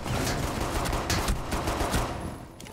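Pistol fire in the Rainbow Six Siege video game comes as a rapid run of sharp, close shots in quick succession, with no talking over it.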